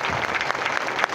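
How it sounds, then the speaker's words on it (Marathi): An audience at a devotional kirtan at an ashram claps loudly and steadily for the saints, a dense crowd applause filling the whole moment. "सगळे एकदा संताकरता जोरात टाळ्या वाजा."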